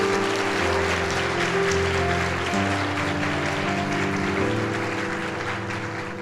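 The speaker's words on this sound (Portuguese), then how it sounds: "Dá um aplauso aí ao Senhor Jesus." A congregation applauds during a Sunday church service: dense continuous clapping, loud and sustained, over sustained musical tones, fading slightly toward the end.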